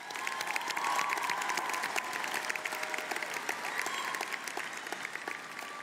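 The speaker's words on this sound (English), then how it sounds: "Let's give them a round of applause." At a college commencement ceremony, an audience applauds the graduates with a sustained, dense clapping texture that holds through the whole stretch. A few cheers rise faintly in a large hall.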